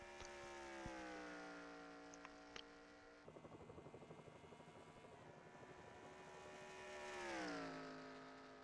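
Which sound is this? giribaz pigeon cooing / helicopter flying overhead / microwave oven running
helicopter flying overhead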